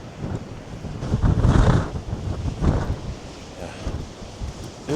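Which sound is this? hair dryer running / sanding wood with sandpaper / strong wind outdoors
strong wind outdoors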